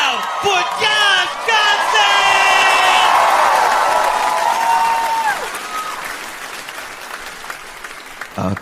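A studio audience breaks into loud applause with cheers and whoops for a guest, building quickly and then tapering off over several seconds.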